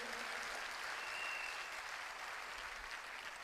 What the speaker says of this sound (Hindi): मैं चाहूंगा एक बार तालियां जोरदार